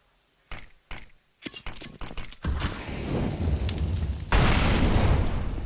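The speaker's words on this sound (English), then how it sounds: "Just waiting patiently for that smoke to fully plume before they do decide to start to push." In a CS:GO match, a smoke grenade deploys with a few sharp metallic clinks and pops, then a loud sustained hissing rush as the smoke plumes, swelling even louder toward the end.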